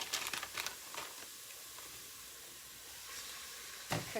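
Ground beef sizzling as it cooks down in a pan, a soft steady hiss close by with a few sharper crackles and taps near the start and end.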